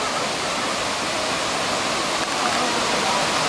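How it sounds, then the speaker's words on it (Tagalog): Kawasan Falls in Cebu pours in a constant, dense roar of falling water, loud and close, holding steady throughout. "ito po yung pangalawang falls na pinuntahan namin sa Cebu"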